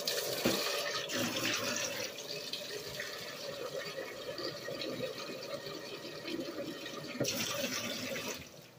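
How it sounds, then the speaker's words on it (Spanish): Water pours steadily into a pot for making champurrado, a continuous hissing splash close to the listener that swells again near the end, with no talking. "Vamos a poner una cantidad de agua, más o menos como un litro"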